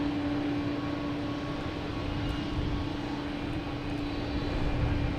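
A fixed-wing airliner passes at Boston Logan Airport, a steady, loud engine roar with a constant low hum that fills the whole stretch without fading, heard in the late afternoon with no voices.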